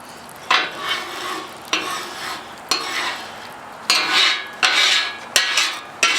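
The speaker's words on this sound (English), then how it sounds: "we're going to scrape off all that we can scrape off" A metal scraper drags across a cooled Blackstone griddle top in repeated strokes, seven rough rasping passes with brief gaps between them, close and fairly loud, with no talking.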